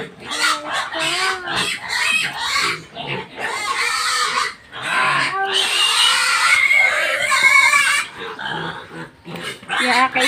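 Hungry pigs grunt and squeal loudly at feeding time, a busy overlapping chorus of oinks and shrill squeals, with clucking fowl and a dog mixed in nearby.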